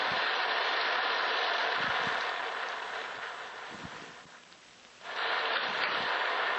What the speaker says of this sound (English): And the rain. Look at the rain.